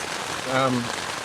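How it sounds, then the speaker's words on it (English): Steady heavy rain hiss fills the clip in an urban woodland in late spring, with a brief tonal voice-like sound rising in the middle. "That rain's really coming down now."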